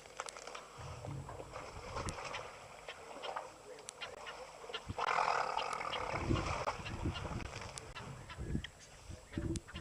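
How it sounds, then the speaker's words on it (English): A South African shelduck calls at a waterhole in Madikwe, its honking notes rising over steady ambient bush noise, fairly distant and intermittent, with other birds faintly around. "You can hear a South African shell duck calling"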